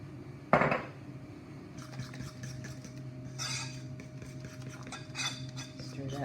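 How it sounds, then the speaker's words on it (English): A spoon stirs yeasted milk into flour in a bowl. One sharp clink opens, then quiet, repeated scraping taps and clinks of utensil against the bowl follow. "Got some yeast in my milk, and I'm going to stir that into my flour."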